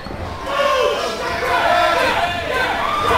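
Wrestling crowd at an independent show in Chino, California, roaring steadily with cheers and boos mixed together, loud and sustained with voices swelling and dipping throughout.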